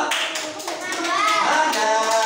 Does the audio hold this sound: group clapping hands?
yes